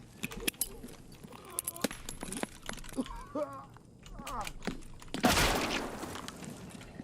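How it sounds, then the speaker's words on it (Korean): Gunfire in the shooter game Escape From Tarkov: scattered sharp shots and one heavier burst near the end, mixed with people talking over the action at moderate loudness. "이제 총 쏠게요"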